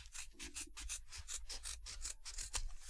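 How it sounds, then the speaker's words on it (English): Scissors trimming a fold of cloth at close range, with repeated crisp rasping snips and rubbing strokes in quick succession, no voice present. "I'm just going to trim off this fold here."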